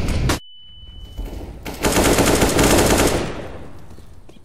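A loud, close burst of rapid automatic AK rifle fire in a video game, coming after a single sharp shot and a brief beep.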